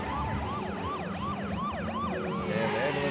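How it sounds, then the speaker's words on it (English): An ambulance siren from The X-Files episode "Drive" wails in steady, rising-and-falling sweeps, loud and continuous throughout with a dense rumbling backdrop. "the ambulance going up"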